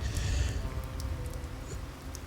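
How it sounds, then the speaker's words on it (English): Steady rain falling outdoors over a wall being painted, a soft continuous patter with faint scattered drops, fairly quiet and alone without talk. "It's been raining all day"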